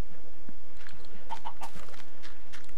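A Minecraft chicken gives a few short clucks in quick succession over steady game background noise.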